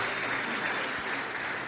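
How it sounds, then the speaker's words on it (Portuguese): Warm audience applause for Hélio and Fernanda at a motivational talk, steady dense clapping from a sizable crowd filling the whole moment. "gostaria que vocês dessem uma grande salva de palmas para o Hélio e para a Fernanda"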